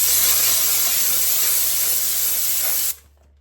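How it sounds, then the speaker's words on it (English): A Dupray steam cleaner hisses a loud, steady jet of steam onto the baked-on grime of an AGA oven, then cuts off abruptly near the end, leaving quiet. "The steam cleaner is just so good at loosening the dirt and the baked on grime"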